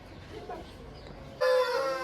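An 11-month-old Aseel rooster on a farm near Nellore lets out a loud, sustained crow partway through, after a few quieter seconds of background noise.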